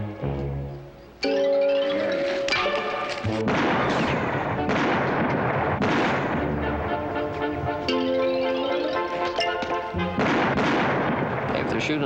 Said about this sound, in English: if they're shooting at us, they're the worst shots in the world